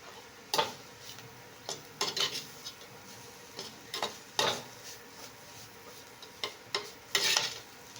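Carrots stirred and fried in a pan, soft background sizzle punctuated by a series of sharp scrapes and clinks from a spoon against the pan at irregular intervals.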